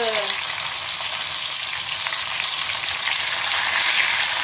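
Prunes brown in a hot pan with lamb, giving a loud, steady sizzle and frying hiss that runs without a break from start to finish and swells slightly toward the end.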